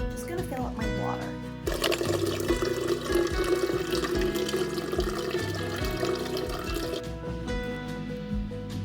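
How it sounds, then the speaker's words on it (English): A water bottle being filled from a tap at a sink: a continuous rushing stream of water runs for several seconds, with clattering and drips around it and a voice talking over it. "I'm just gonna fill up my water"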